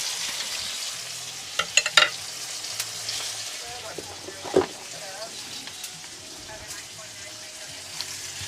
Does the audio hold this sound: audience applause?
no